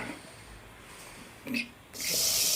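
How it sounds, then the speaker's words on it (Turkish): Strained fish broth from scorpionfish soup, with bay leaves, pours into a pot. A quiet wet rustle gives way to a short splash, then a loud, steady rush of liquid for the final half-second. "Defne yaprakları eşliğinde suyumuzu bir güzel süzüyoruz arkadaşlar."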